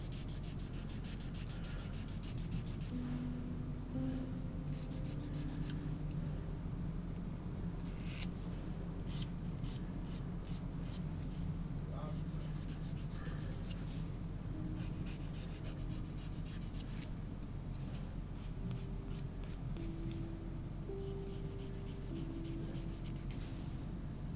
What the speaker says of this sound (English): Need some filing anyway.